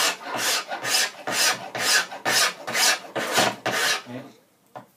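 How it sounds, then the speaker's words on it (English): A metal file rasps in steady back-and-forth strokes over a hard spot in a workpiece held in a file jig, about nine even, close passes before it stops, with a faint tap at the end. "File's almost skating over it."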